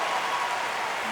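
US Open tennis crowd applauding in a stadium during a fourth-round match, a steady, dense wash of clapping throughout this short moment.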